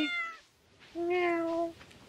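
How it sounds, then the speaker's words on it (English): A cat meowing in the video game Stardew Valley: two clear, tonal meows, a short one then a longer drawn-out one, close and alone against quiet background. "Meow."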